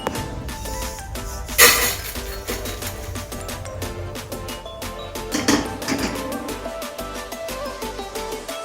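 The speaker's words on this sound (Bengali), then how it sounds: "মশলা ড্রাই রোস্ট করা হয়ে গেছে, এগুলো এবার একটা প্লেটে ঢেলে নিচ্ছি।" Dry-roasted whole spices poured from a pan onto a plate, giving a quick clattering, rattling spill with a sharper burst near the start and another softer rush later, close by with no talking.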